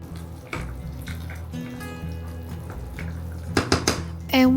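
Dishes and utensils being washed at a kitchen sink during cooking, with running tap water, clinks of cutlery and knocks of pots scattered through the clip and a louder clatter near the end.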